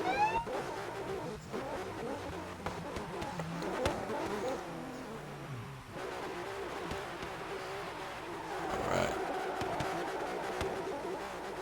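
A drift car at the start line of a drift event warms its tires, its engine a moderate, somewhat distant rumble that rises and falls, with faint voices in the background.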